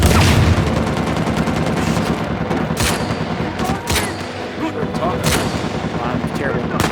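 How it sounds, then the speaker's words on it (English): Gunfire in the video game Uncharted 4, with loud sniper rifle shots among dense overlapping bursts and sharp blasts throughout, and a voice talking over part of it. "Sniper rifle."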